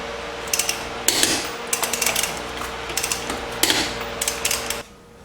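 Ratchet wrench clicking in several quick bursts, close and loud, while a wheel goes back onto a 2002 Jeep Liberty after a front lower ball joint replacement, with short pauses between strokes.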